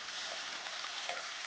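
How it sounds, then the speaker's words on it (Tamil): Onions sautéing in hot oil with dried red chillies give a steady, even sizzle throughout, a brief close hiss with no voices. "இதில் வெங்காயம் போட்டுக்கோங்க, போட்டு நல்லா வதக்குங்க"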